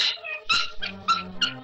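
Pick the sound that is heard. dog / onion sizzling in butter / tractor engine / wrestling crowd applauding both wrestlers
dog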